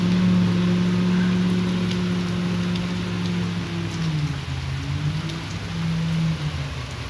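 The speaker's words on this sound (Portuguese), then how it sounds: "Olha a chuvinha." Light rain falls on a street, a steady soft hiss spread evenly over several seconds with a low droning machine hum underneath and no voices.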